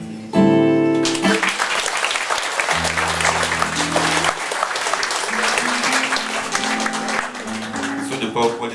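A concert audience applauds steadily and loudly for several seconds after a song ends, with dense clapping from the crowd and the music's last sustained notes fading underneath.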